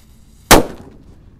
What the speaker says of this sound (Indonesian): eksperimen menyalakan mercon di dalam galon